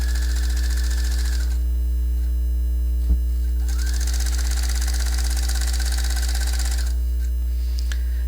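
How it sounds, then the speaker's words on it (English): A home sewing machine stitches two layers of a jeans waistband together, running steadily with a mechanical hum and motor drone, pausing briefly in the middle before resuming, with a faint click partway through. "right now I'm just going to sew along and sew them together"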